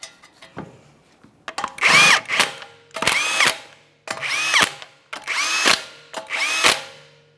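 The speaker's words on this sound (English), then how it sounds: "We're going to continue on torquing these lug nuts in a crisscross manner to that 100 foot-pounds." A power tool drives the wheel lug nuts on a 2014–2018 Mazda 3 in five separate loud bursts, each a short whirring rattle after a pause, close by with no talking.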